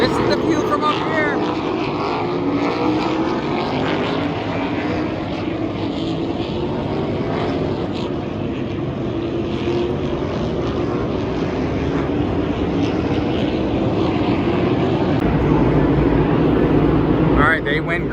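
NASCAR race cars whipping around the Roval course at Charlotte Motor Speedway, heard from an infield campsite: a loud, continuous engine roar swelling and fading as the pack passes, with faint voices beneath.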